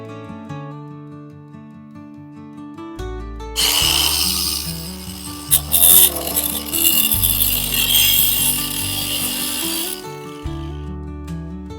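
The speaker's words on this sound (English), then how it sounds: "I'm taking everything down from this wall and getting all the screws and the nails out" A power drill pulling screws out of a workshop wall, a few seconds of loud ratcheting whirr in short bursts over background music, close and alone without speech.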